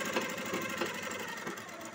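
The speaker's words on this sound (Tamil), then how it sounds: "இப்படி தைக்கும்போது இப்போ நம்மளுக்கு நார்மலான தையல் கிடச்சிருச்சு" A sewing machine runs steadily after its thread tension has been tightened to stop looping, producing a fast, even mechanical chatter at close range with no voices.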